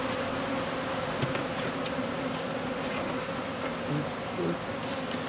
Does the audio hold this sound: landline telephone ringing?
no